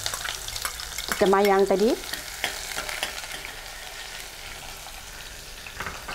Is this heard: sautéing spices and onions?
yes